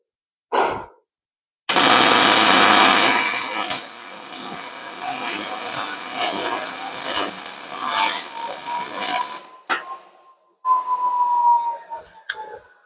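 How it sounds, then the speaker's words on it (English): MIG welding on a Chevy Squarebody truck frame with 35 thou wire, a loud crackling hiss that starts abruptly and sputters on for several seconds before cutting off, followed by a few short bursts. "I'm going to MIG weld this today, and I got 35 thou wire."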